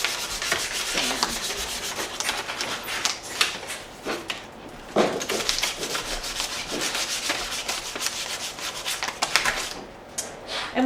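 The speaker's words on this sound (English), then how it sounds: "So then I go to the 220 and give everything just kind of a fine sand." Sandpaper of fine 220 grit rubs over a wooden chair in steady back-and-forth strokes, a close, continuous scratchy hiss with small pauses and shifts in pressure, no voices.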